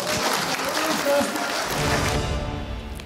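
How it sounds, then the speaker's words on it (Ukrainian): Applause fills a public gathering honouring local people, a dense, even wash of clapping that holds steady for a few seconds before thinning out at the end. "Оплески нашим людям."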